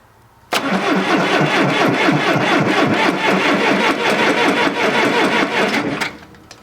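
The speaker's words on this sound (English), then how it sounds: "Let's see how it rolls over." A John Deere tractor engine cranks over on a cold start with its fuel shut off so it cannot fire, a loud steady rhythmic churning from the starter that runs for about five and a half seconds and then stops, with no voices.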